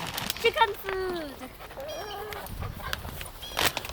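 Backyard chickens cluck and squawk in short, rising and falling calls, fairly close but soft, with scattered rustling around them.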